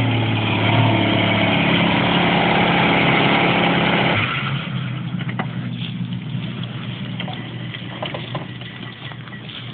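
A car engine runs loudly and steadily as the driver tries to reverse, the revving drone dropping to a rougher, lower idle partway through, with some clicks and knocks.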